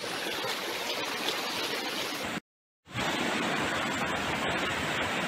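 Water rushes continuously in a flowing stream, a loud, dense, steady wash broken once by a brief cut to silence before resuming.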